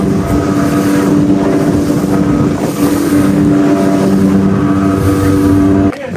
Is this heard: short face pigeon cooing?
no